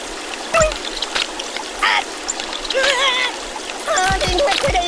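Water pouring and splashing onto the buddy in the Kick the Buddy mobile game, a continuous loud trickling stream with splashes, under a cartoonish character voice talking over it.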